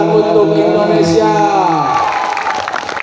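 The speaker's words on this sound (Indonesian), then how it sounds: "Tepuk tangan untuk Indonesia." Audience at a Sundanese religious lecture in Sukabumi cheers and claps for Indonesia, a crowd roar rising under a voice, with broad clapping noise building toward the end.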